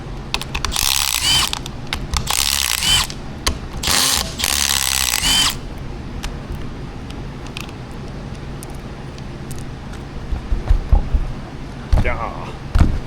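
A ratchet with a 13 mm socket loosens the bolts holding a fan clutch on a truck, giving several loud, rapid clicking bursts close by. Quieter handling noises and some talk follow.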